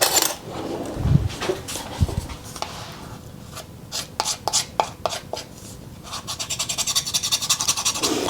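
A knife scrapes spelt sourdough off a spatula in short close scrapes and taps, which speed up into a rapid rhythmic rasping run toward the end, with no one talking.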